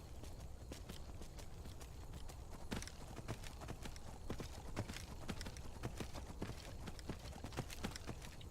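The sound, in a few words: horse hooves clip-clopping in Skyrim, a video game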